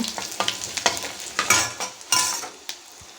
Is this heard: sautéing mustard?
yes